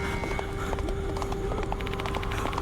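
Hooves of a horse clop in a quick, regular gait in the video game Spirit Hunter: Death Mark II, drawing steadily closer over a low ambient hum.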